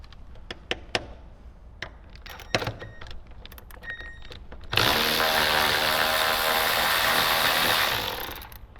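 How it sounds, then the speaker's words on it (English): A ratchet clicks in short bursts while loosening the front T45 seat bolts in a 2018–2023 Jeep JL Wrangler, followed by a sudden loud, sustained whirring mechanical drone for several seconds before it tapers off. "Then we can go ahead and remove the 2 front T45 bolts."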